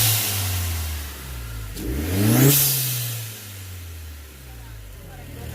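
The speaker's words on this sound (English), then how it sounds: "Give it a small rev." A Hyundai Genesis fitted with a K&N air intake gives one short rev. The engine climbs from idle, peaks near the middle and settles back to a steady idle, heard close in the open.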